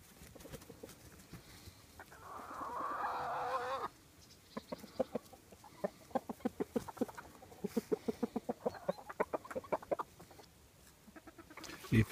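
Chickens cluck and coo while pecking at chili and habanero peppers, with a burst of low flapping or scuffling and then a series of close, rhythmic clucks.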